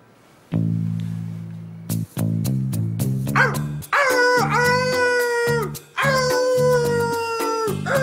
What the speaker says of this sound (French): Il a aboyé toute la nuit, ce con de clébard.